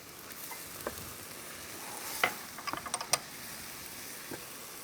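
Chicken marsala in a sizzling pan, a soft low sizzle under a few sharp clicks and scrapes of a utensil being stirred through it, close and fairly quiet.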